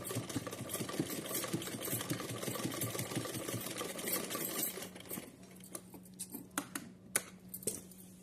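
A sewing machine runs a continuous double line of stitches along a small doll dress bodice, a steady rapid mechanical whir for about five seconds, then stopping, followed by faint handling clicks and taps.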